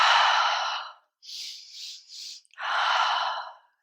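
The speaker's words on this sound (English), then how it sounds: "So we breathe in." A deep, audible inhale during a yoga breathing exercise, heard alone and close, followed by three short stacked sniffs of breath and a long, loud release.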